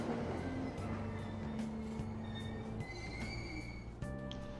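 Train in the Persona 5 Royal video game, with steady rolling rumble, sustained tonal hums and squeals, and several sharp clacks spaced through it, at moderate level.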